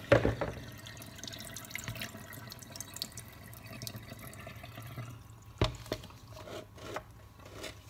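Water runs and trickles steadily into a sink as boiled greens are squeezed out by hand, with a few louder splashes and drips toward the end; no voices.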